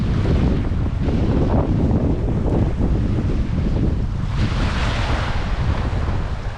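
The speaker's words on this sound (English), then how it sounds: "It's blowing. Looks like it's going to be a bit of a storm coming in actually." Strong wind buffets the microphone over rough ocean surf at a beach as a storm moves in, a loud, continuous roar of wind and crashing waves with no voices.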